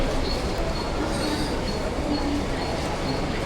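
A commuter train runs on rails at steady speed, a loud continuous rumble of wheels and carriage with faint squeals over the top, heard from inside the moving car.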